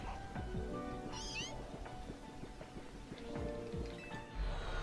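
Short game creature cries of an Alolan Meowth in Pokemon Legends Z-A, cat-like meows and a rising squeal repeating over busy background game sounds and music.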